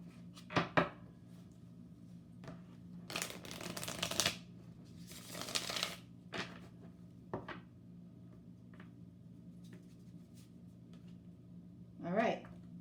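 Lenormand tarot cards being shuffled by hand, giving two short riffles and a longer stretch of papery flutter, with quieter card handling and voice sounds between them.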